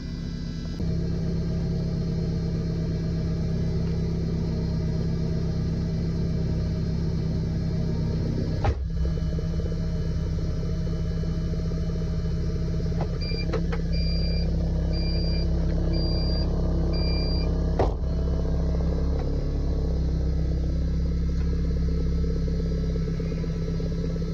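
A Honda CRX engine runs steadily with a constant low droning idle and hum through the whole stretch, two sharp clunks, and a brief series of electronic beeps partway through.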